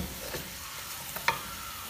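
Chicken being sautéed in a pan for white karahi makes a soft, continuous sizzle, with a few light scrapes of a stirring utensil and one sharp clink near the end.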